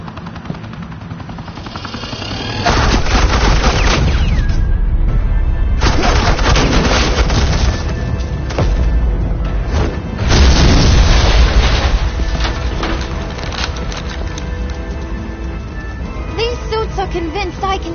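Heavy sustained gunfire blasts in an animated Batman episode, loud rapid bursts with booming impacts rolling continuously over several seconds after a quiet start.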